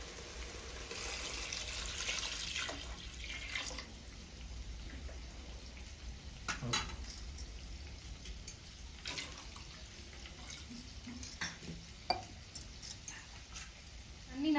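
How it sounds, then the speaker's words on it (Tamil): Water pours into a cooking pot for chicken biryani, a continuous splashing stream with a few clinks and knocks of utensils, fairly close and without talk. "அரை கிலோ அரிசிக்கு 1 லிட்டர் தண்ணி எடுத்துக்கோங்க"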